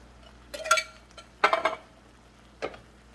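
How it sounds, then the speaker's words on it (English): Canned fire-roasted tomatoes tipped into a soup pot of green pepper soup, heard as three separate bursts of metallic clanking and wet plopping, close up with no voice. "All right, time to add the tomatoes. I'm gonna add both cans."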